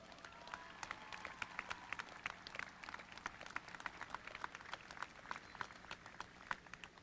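At an outdoor graduation ceremony in a stadium, a crowd applauds as students come on stage, a quiet, distant patter of many separate hand claps that stays even throughout.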